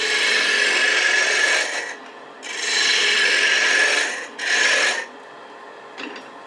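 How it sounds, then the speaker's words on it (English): A spindle roughing gouge cuts wood on a lathe while turning finials for ornaments, giving three loud, sustained rasping passes separated by short pauses, with a faint scrape near the end and no talking. "So let's just start with doing that with a spindle roughing gouge."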